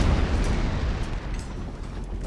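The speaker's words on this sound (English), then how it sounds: "Still firing cannons." Naval cannons fire from warships in the Imperial Splendour strategy game, a continuous dense rumble of overlapping booms and bursts that holds steady with no clear break between shots.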